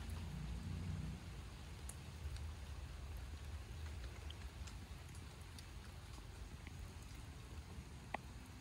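Steady outdoor rain falls during a riverside fish grill in the Mekong Delta countryside, a dense even hiss lasting throughout with no voices and a few faint ticks.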